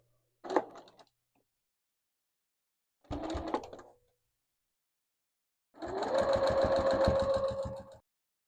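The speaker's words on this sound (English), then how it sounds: "I'm just going to turn my sewing machine on, and I'm going to sew a narrow edge down there." A sewing machine whirs in three bursts: two brief starts, then a longer run of rapid stitching a narrow edge on a quilted name badge, with a rising motor hum.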